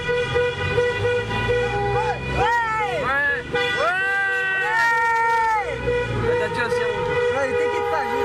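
A bus horn toots repeatedly in a busy street, with loud bursts of sliding, harmonic blasts running through the middle of the clip over steady traffic rumble and crowd babble.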